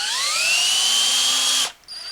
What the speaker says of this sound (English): And watch carefully now as I pull the trigger on this drill.